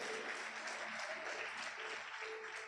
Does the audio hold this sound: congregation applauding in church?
yes